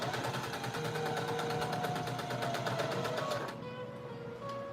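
A sewing machine stitches zigzag seams on a fabric doll, a fast, even mechanical chatter running close and steady for several seconds before slowing and easing off into a softer hum.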